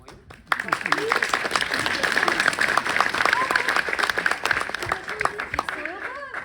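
A crowd at a high school theatre performance claps steadily for several seconds after a sudden start, with people talking over the applause and some whistles or exclamations.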